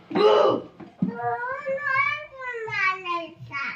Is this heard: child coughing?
yes